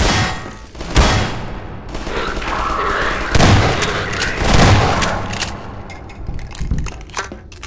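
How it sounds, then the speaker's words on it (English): Enemy gunfire in Half-Life 2 Episode 1, a dense, loud barrage of shots and impacts blending into a continuous roar with a few heavier thumps, close and chaotic. "He shot at me."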